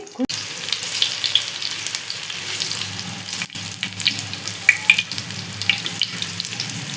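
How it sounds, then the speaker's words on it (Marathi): Colocasia leaf rolls (alu vadi) frying in hot oil give a steady, close, bright sizzle with scattered pops and crackles that runs continuously and alone. "आपली वडी आता तळून घ्यायची"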